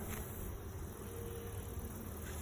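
Honey bees crowd a hive frame, making a faint, continuous insect buzz and hum close by, with no voices.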